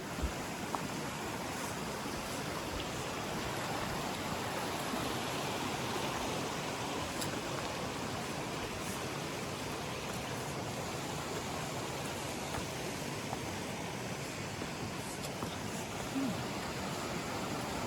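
A broad, steady rush of flowing water runs continuously, like a creek pouring over rocks nearby, even and unbroken for the whole stretch, at a creek crossing on the Appalachian Trail.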